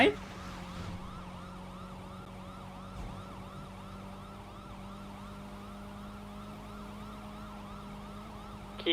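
Police car siren wailing in GTA V, a repeated rising and falling tone running continuously at moderate distance over a low engine hum.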